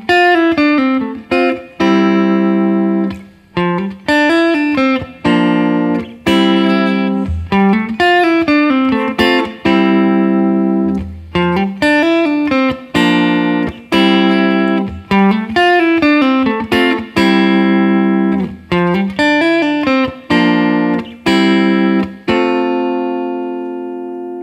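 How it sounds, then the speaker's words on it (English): A short two-measure electric guitar riff blending triad chord shapes with scale runs on the lower strings, played loud and up front, repeating with quick plucked notes and no speech. "let's move on to actually the application of this and building these sounds where you have the triads and the scales mixed together"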